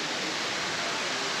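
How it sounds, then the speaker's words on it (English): Water pours steadily from a waterfall over the lazy river at Discovery Cove's aviary, a dense close hiss of falling water filling the short stretch with no voices over it. "This is the part of the Lazy River that goes under that waterfall"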